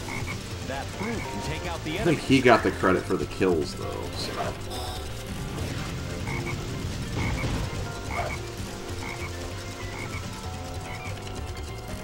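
A frog in the Sonic Heroes video game gives a loud burst of rapid croaks over busy game music and effects, while someone talks over the action.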